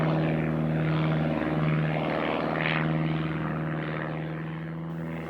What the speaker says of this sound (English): he heard a noise in the sky. He looked up and saw planes flying over his head.